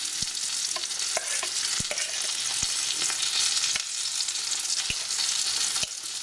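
Hot peppers fry and sizzle in a pan, a steady crackling hiss broken by sharp clicks and scrapes of stirring.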